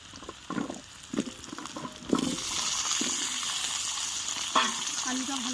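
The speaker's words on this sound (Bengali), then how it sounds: "আলুটা ভালো করে ভেজে নেব" Potatoes frying with onion in a pan, a few stirring scrapes, then a sudden louder, steady hiss of frying that carries on with occasional knocks.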